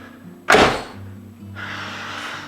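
A car door on a 1966 Chevrolet Impala SS 427 swings shut with one loud, solid thunk, followed by a faint rattle and a low steady background hum.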